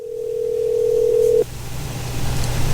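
A telephone line tone plays loud and steady for about a second and a half, then cuts off and leaves a low hum from the line.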